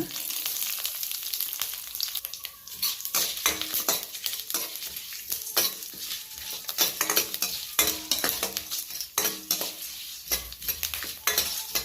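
Cumin seeds spluttering in hot oil for a Chettinad-style spicy fish curry, a busy crackling sizzle with sharp popping bursts and occasional stirring scrapes throughout, close and steady with no talking.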